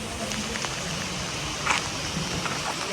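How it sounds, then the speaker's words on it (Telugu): Heavy rain falls at Guptkashi in the Himalayan foothills, an even, dense hiss with a few faint pattering splashes and no pause. "విపరీతమైన వర్షం పడుతుంది"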